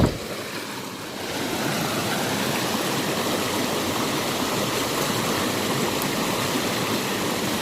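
Loud, steady rush of fast-flowing river water on a mudlarking shore, filling the whole clip, a dense constant roar with no voices.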